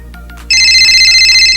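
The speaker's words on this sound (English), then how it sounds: "Oh wait guys, I'm getting a phone call." A phone ringtone for an incoming call starts abruptly and plays loud and close as a bright, steady electronic tone, with a low hum under it and no voices.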